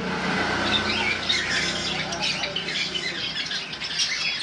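Pet birds for sale at a bird seller's, including lovebirds, Java sparrows, cockatiels and conures, squawk and chirp in a loud, continuous, overlapping chorus close by, with a voice mixed in beneath.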